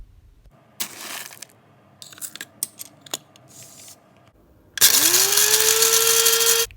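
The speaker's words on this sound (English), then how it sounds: "I decided to ground some fresh coffee grounds, so I went ahead and got those coffee beans out to grind them fresh" Coffee beans being prepared and then ground fresh in an electric grinder: a few scattered rattles and clicks of beans, then a loud, steady motor whine with a rising pitch that runs for about two seconds.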